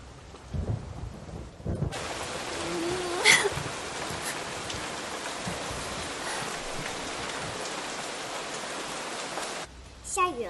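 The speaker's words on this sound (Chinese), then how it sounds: "下雨了" Steady, dense rain hisses in after a quiet opening, holding loud and even for several seconds with a brief sharper burst early on, then cuts off near the end.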